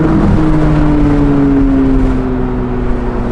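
A Chevrolet Corvette C8 Z06 engine revs high and steady, a loud sustained rising whine close by with no talk over it.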